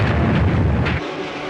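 A pyrotechnic blast from a scale-model special effects shot in a science fiction film, a deep booming rumble that rolls briefly and then cuts off abruptly.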